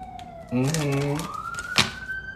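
A siren wails from a distance, its tone sliding steadily upward, while a voice talks over it in the foreground.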